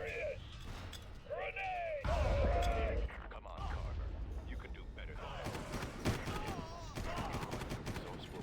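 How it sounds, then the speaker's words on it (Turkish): Bomb explosions in the Far Cry video game, a string of loud booming blasts and crashing bursts with game voices and chatter mixed in throughout. "Şöyle birkaç tane bomba fırlat."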